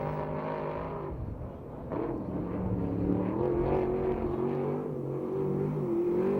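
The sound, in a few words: 410 sprint car going by on race track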